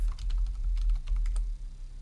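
A grep command being typed on a computer keyboard: a steady run of quick, close key clicks over a low hum, with no voices.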